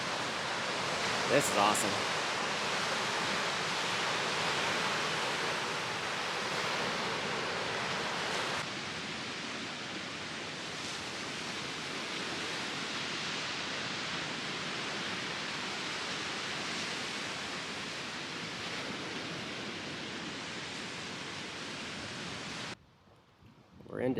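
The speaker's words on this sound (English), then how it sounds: "Beach on Lake Michigan, early morning." Waves washing onto a Lake Michigan beach in the early morning, a steady broad surf rush that continues throughout and then cuts off near the end, with a voice speaking briefly.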